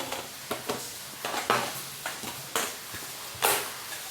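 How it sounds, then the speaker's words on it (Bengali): An egg frying in leftover oil in a wok, with a soft steady sizzle broken by a series of sharp spatula scrapes and stirring clatters every half second or so, close and fairly quiet. "এই যে তেলটা কিছুটা ঢেলে রেখে ডিম ভেজে ফেলবো এই তেলে"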